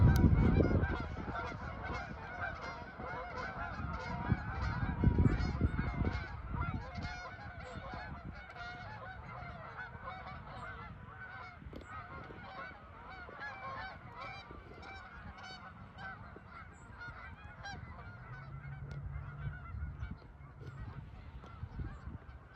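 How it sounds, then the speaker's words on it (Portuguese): Wild migratory ducks call in a loud, busy chorus of repeated honking cries, strongest at first and continuing at a steady level throughout, with no speech. "São patos selvagens, aves migratórias, olha aí."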